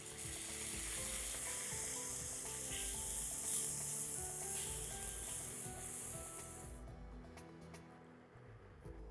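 Onion and green chili sizzle steadily in a pan, with a loud, continuous frying hiss that covers most of the clip before it suddenly drops away near the end once the milk goes in.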